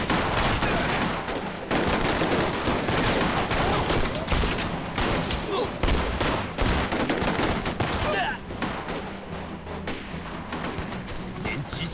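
A squad opens fire in a Chinese war drama about fighting the Japanese: loud, dense volleys of rifle and machine-gun fire crackle almost without pause, with a couple of brief breaks and faint shouting beneath.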